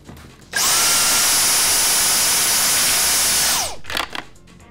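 Dyson DC31 handheld vacuum cleaner switched to boost power, a loud steady high-pitched whine that starts abruptly, holds for about three seconds, then cuts off and winds down.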